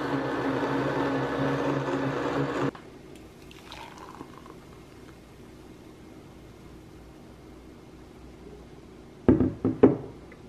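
Blender running a green smoothie cycle with almond milk, a loud steady whirring drone that cuts off abruptly after a few seconds, leaving quiet room hiss, then a couple of sharp knocks and clunks near the end.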